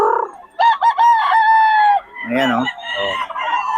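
Roosters crow loudly up close, one long call followed by another, with clucking in between and a man's brief remark.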